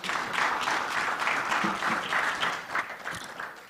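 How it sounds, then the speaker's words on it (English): An audience at a conference on information and communication rights in Africa applauds a panel, a loud, sustained round of clapping from a full room lasting the whole stretch. "I think our brilliant panel deserves a warm round of applause for the work today."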